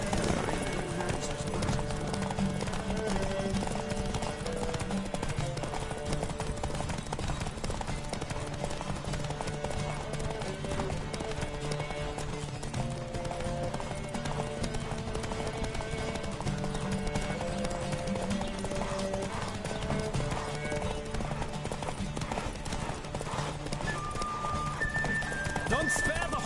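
Rhythmic hoofbeats of a galloping horse in the video game The Witcher 3 run under steady music and voices, continuous and moderately loud throughout.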